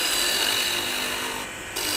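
A wood lathe spins as a bowl gouge wastes away wood on a turned cross with a bell base, a steady close scraping and rushing cut that dips briefly before resuming.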